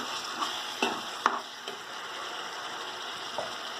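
Curry leaves and coriander leaves sautéing in a pan for chicken biryani, a soft steady sizzle with a few sharp spatula scrapes and clicks, no voices.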